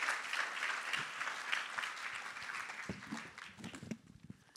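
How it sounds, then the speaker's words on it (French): An audience at an onstage interview applauds warmly to welcome former footballer Éric Carrière, dense clapping that gradually thins out into a few scattered claps and shuffling near the end. "je vous demande d'applaudir chaleureusement Monsieur Éric Carrière"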